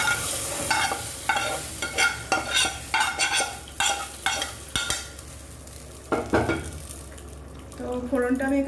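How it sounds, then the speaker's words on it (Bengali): Spiced tempering (phoron) sizzling as it is poured into a pot of khichuri, with loud frying crackle and stirring scrapes, then a quieter bubbling simmer near the end. "তো ফোড়নটা আমি এখানে দিয়ে দিলাম"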